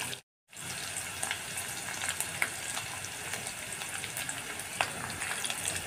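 Finely chopped onion sautés with curry leaves in a pan, a continuous close hiss of frying with faint stirring ticks throughout after a brief silent gap at the start.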